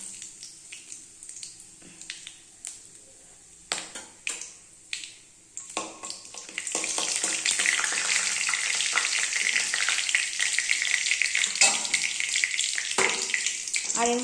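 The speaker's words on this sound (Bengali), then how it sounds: "তেল গরম হয়ে গেছে, তেলের মধ্যে এই ফোড়নটা দিয়ে ভালো করে নেড়ে চেড়ে নিতে হবে।" Whole spices are added to hot oil in a home kitchen and stirred. A few scattered taps and clatters come first, then a loud, steady sizzle takes over and continues to the end.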